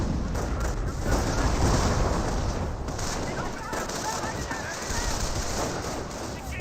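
In Company of Heroes, a 25-pounder artillery barrage pounds the ground with a dense, continuous roar of blasts and rumbling gunfire while a commentator talks over it.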